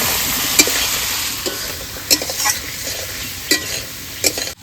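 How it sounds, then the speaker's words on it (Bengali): Prawns are stirred into a cooked-down spice paste, giving a continuous sizzle broken by several sharp scrapes and clatters of a spatula against the pan. "এবার ওর ভিতরে মাছগুলো দিয়ে মাছটাকে ভালো করে মশলার সাথে মিশিয়ে দেবো"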